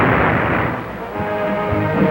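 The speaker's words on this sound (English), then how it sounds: "Shooting out of a cannon for a jump of 65 feet at the Trenton Fairgrounds." A human cannonball stunt cannon fires at the Trenton Fairgrounds in 1950, a heavy booming blast with a rumbling low roar that persists, loud and muffled on old archival film audio with no speech.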